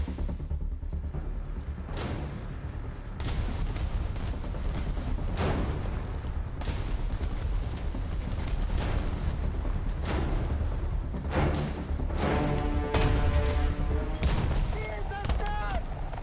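Tiger II H heavy tank's 88mm KwK cannon booms repeatedly in War Thunder, each loud broadband blast spaced a second or two apart over a dense rumbling battlefield din, with scattered gunfire around it and speech underneath.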